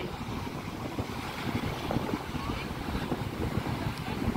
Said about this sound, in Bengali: বিশাল ঢেউ এখন সমুদ্রে